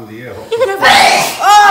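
A single loud sneeze bursts out close by, preceded by a brief spoken line and a sharp intake of breath.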